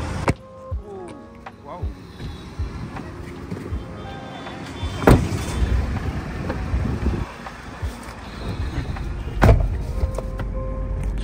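Car driving home after a shopping trip, a cabin rumble with thumps and clatters as it moves off, under voices talking inside the car.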